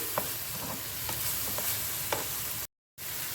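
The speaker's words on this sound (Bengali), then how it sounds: "তো এটা দিয়ে আমি ভালো করে ভেজে নেব মশলাগুলো" Spices, including dried and fresh chilli powder, sizzle in a pan for an egg kachori breakfast while a spoon stirs them with occasional clicks and scrapes, close and steady, with one brief dropout and no talking.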